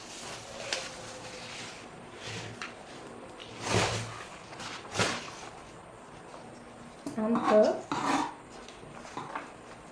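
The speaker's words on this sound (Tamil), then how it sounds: "அப்புறம் நம்மளோட ஷோல்டர் ஸ்லோப் கட் பண்ணுறோம்" Scissors cut fabric along the shoulder slope of a kurti, with intermittent close crunching snips and rasping scrapes separated by quiet pauses, the busiest stretch of cutting coming near the end.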